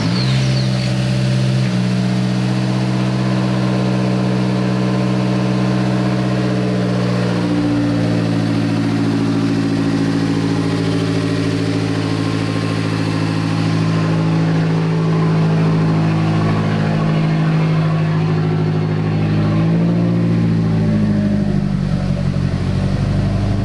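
A car engine fitted with a new XS Power turbo manifold runs loudly and steadily at close range, settling into an even idle with occasional shifts in pitch as revs change, with no talking.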